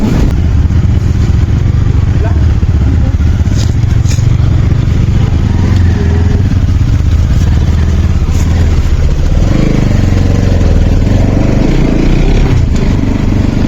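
A motorcycle engine drones steadily throughout while riding, with a low rumble and rattling wind noise, loud and close.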